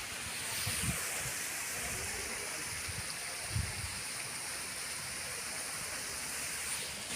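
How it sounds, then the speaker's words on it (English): A waterfall in a natural outdoor setting gives a steady, broad rushing wash of falling water that stays even throughout, with a few faint low thumps and no clear talk over it. "There's a waterfall."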